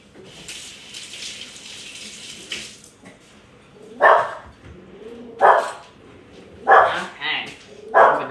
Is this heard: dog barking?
yes